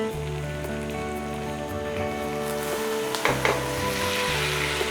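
Corn goes into a pot of onions, leeks and bacon, which sizzle steadily in the fat, with a faint clatter of stirring partway through and no talking.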